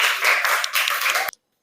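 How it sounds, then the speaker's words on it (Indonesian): Schoolchildren in a classroom clapping together during a math lesson, a brief burst of brisk, close applause that stops abruptly after about a second. "Tepuk tangan untuk Darel."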